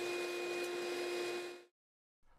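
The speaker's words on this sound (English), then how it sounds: "Then I just vacuum with it and try not to kink the tubing." A vacuum cleaner fitted with attached tubing runs with a steady, close, whining roar, then cuts off abruptly into silence before a faint sound returns.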